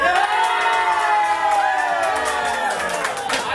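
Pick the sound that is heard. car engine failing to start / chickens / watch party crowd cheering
watch party crowd cheering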